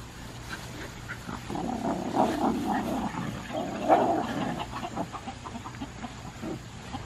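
Chickens clucking and murmuring nearby, with a few louder squawks rising out of the steady flock chatter.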